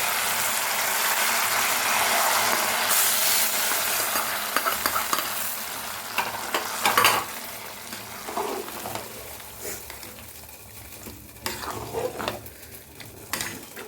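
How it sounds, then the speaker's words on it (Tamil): Hot tempering is poured into pepper pongal in a kitchen with a loud sizzle at first. The sizzle fades over several seconds into scattered scraping and clattering as it is stirred in, without speech. "பொங்கலில் வந்து நம்ம வந்து இப்போ தாளிச்சு வந்து ஊற்றிக்கலாம்"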